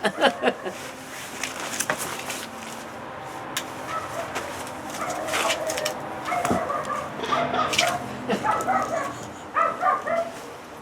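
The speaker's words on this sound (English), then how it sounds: "First thing I notice is we've got a dog." A dog barks and yips intermittently as volunteers arrive at a house for a food delivery, the sounds mixed with birds chirping and soft background noise, moderately near.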